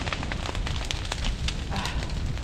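A forest fire burns nearby, a steady dense crackling and rushing roar with sharp pops scattered throughout and no clear talk.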